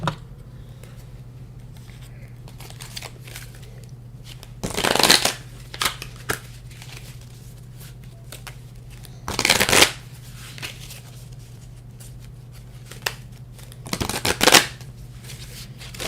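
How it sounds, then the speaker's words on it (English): Three separate bursts of tarot cards being shuffled by hand, each a loud riffling flutter lasting about a second, spaced several seconds apart over a steady low hum, with no talking. "These cards are so hard to shuffle."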